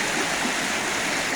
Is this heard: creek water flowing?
yes